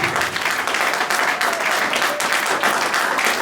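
A church congregation in Beauvais applauding during a worship service, continuous dense clapping at close range throughout with no break.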